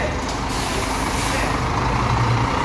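A Volvo B11 bus engine runs steadily with a loud, dense, continuous rumble and hiss, close by and alone with no voices.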